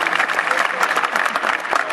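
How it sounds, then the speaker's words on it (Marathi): Dense, close audience clapping for arriving guests at a Marathi event about Chhatrapati Shivaji Maharaj, a loud continuous patter of many hands with no talk over it. "त्यांच्यासाठी एकदा जोरदार टाळ्या होते सर्वांसाठी"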